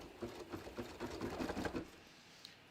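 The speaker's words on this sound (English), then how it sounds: "And that will embroider that buttonhole." A sewing machine stitches a buttonhole into a bathrobe with a fast, even whir of needle strokes lasting about two seconds, then stops, leaving a quiet room with one small tick.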